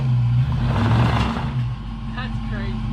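A Case 580 backhoe engine labors as its wheels spin, a loud close rumbling drone with surging revs, under excited talk.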